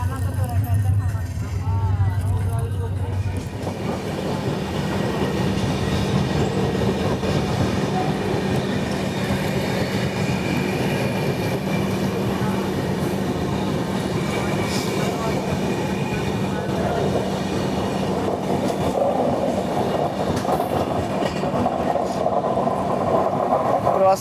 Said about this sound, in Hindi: अभी हमारी ट्रेन पहुंचने जा रही है ग्वालियर जंक्शन